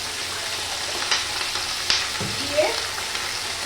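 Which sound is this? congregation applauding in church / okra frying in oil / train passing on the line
okra frying in oil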